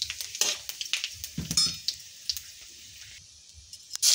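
Cumin seeds, bay leaves and whole garam masala sizzle and crackle in hot oil, with sharp irregular pops and bright spitting over a steady hiss, growing louder at the very end.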